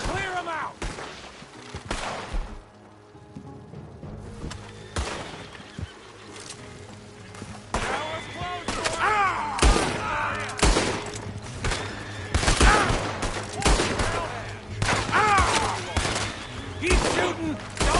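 A shootout in Red Dead Redemption 2, with dense bursts of gunfire cracking nonstop, some near and loud, others echoing farther off, while characters shout over the shooting.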